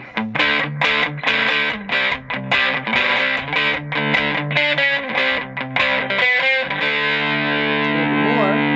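An electric guitar played through a Maxon RTD800 pedal gives loud, biting distorted chords and sustained notes, one strummed hit after another, then a held, ringing chord.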